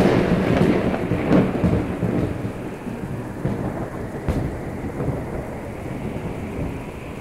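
A raging thunderstorm in a video game, with loud continuous rain and repeated crackling thunder bursts across the whole stretch, no voices.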